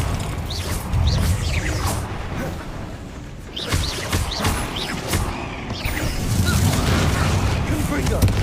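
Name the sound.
Confringo blasting spell cast in the video game Hogwarts Legacy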